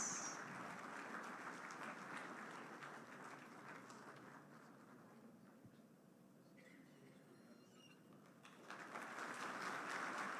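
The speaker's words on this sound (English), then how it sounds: "Let's welcome this initiative by a big round of applause." An audience applauds at a launch ceremony during a Vibrant Gujarat Global Summit seminar in a hall, with faint, distant, steady clapping that dips midway and swells again near the end.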